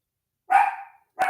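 A dog barks twice in the room, two sharp, close, loud barks separated by a short pause with silence around them.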